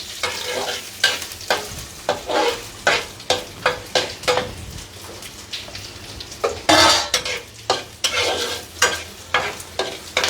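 Ginger fries in a pan, sizzling under repeated loud scrapes and clanks of a spatula against metal, the stirring strokes coming in an irregular rhythm; no voices.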